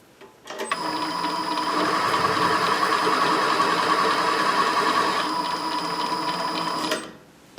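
A Covel 512 grinder runs steadily for several seconds, a loud, even mechanical whir with a high whine, starting and stopping abruptly, close by and without speech.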